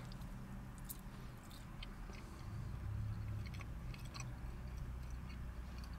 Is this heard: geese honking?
no